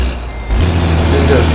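A truck in American Truck Simulator reverses, its backup alarm beeping steadily over a low idling diesel engine hum, with a voice talking briefly over it.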